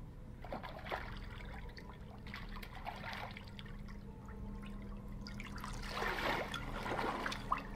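Bath water trickles steadily in the horror video game Visage, a soft continuous flow that swells louder near the end.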